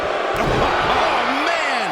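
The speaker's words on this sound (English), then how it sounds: "Oh, what a slam that hurt." A wrestling slam in the WWE 2K19 video game lands as a brief impact under loud, continuous excited commentary and crowd noise from the arena.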